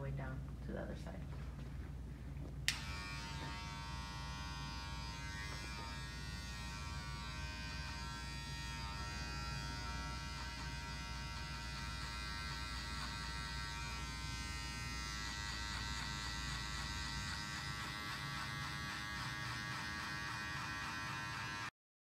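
Wahl Sterling electric hair clippers with a one guard, lever open, buzz steadily and close through a barber haircut, a continuous whine that starts after a sharp click and keeps going for about twenty seconds.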